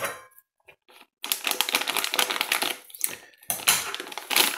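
Short bursts of cutting or snipping noise during the fitting of an external tyre pressure monitor system, with quiet gaps in between. It starts with a few faint clicks, then a louder stretch of crunching, chopping texture close to the microphone.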